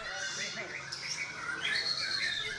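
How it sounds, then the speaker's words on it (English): Songbirds chirp and warble at a bird singing contest in Yogyakarta, Java. The overlapping calls are faint and busy and blend with low background chatter. "These people believe that the beautiful chirping of birds brings good luck."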